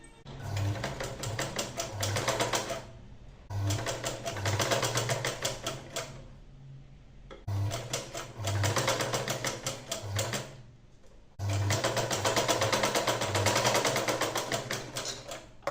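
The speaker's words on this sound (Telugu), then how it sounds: "ఇప్పుడు వచ్చేసి మనము ఈ ట్రయాంగిల్ షేప్ మీద స్టిచ్చింగ్ అనేది చేసుకోవాలి." A sewing machine stitches fabric along a triangle marking on a V-neck, running in four long, steady bursts of fast whirring clatter separated by brief pauses, close up, with no talk.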